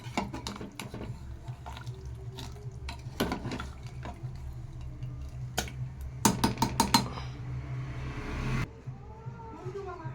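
Mutton curry in a pot being stirred and covered, with scattered clinks of a spoon against metal, a quick cluster of sharp clatters and then a lid settling, over a low steady hum and a brief voice.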